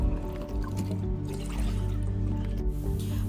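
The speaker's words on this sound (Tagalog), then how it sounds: "ihuwad ang dahon kag 3 ka baso nga tubig or mga 720 ml para makakuha sang ginpabukalan" Water poured over Senna alata (acapulco) leaves to prepare a decoction, a steady liquid filling and trickling sound with drips, close and continuous, with no talk over it.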